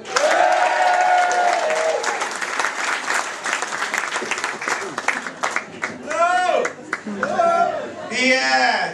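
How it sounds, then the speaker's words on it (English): A comedy gig crowd at The Roisin Dubh in Galway bursts into loud applause with cheers, which thins out as a voice starts speaking over the tail of the clapping. "Bit of hush before you explode with applause."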